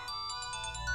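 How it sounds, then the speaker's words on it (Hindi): A phone ringtone plays alone, a steady electronic repeating tone pulsing in quick regular beats for about a second. "फोन बज रहा है।"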